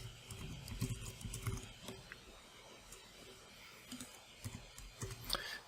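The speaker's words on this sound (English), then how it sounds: "I'm going to go ahead and type in my email address." Email address being typed on a computer keyboard, soft quick irregular key clicks in short bursts, faint and close, with brief pauses between clusters.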